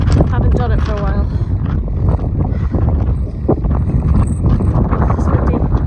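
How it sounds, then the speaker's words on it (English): Wind gusts roar across the microphone during an outdoor run, a constant loud rumble with breathy sounds and a few brief voice-like bits mixed in. "It's windy"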